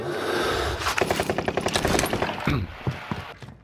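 Rapid bursts of automatic gunfire in the video game Call of Duty: Warzone, a dense volley of repeated shots over about two seconds amid game noise, followed by quieter scraping mechanical sounds.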